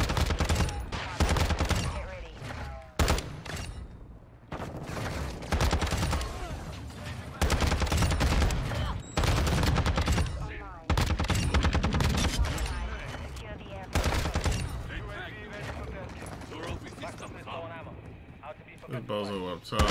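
Shotgun blasts in Modern Warfare 2 ring out in loud, spaced bursts among other gunfire, close and punchy, with a voice talking over parts of the action.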